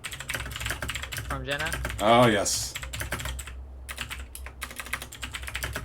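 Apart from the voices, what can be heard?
typing on a computer keyboard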